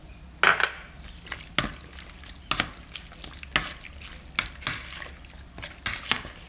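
Minced pork laab being tossed with ground chili and sliced shallots in a bowl, giving irregular soft clinks and wet stirring taps close by, with no talking.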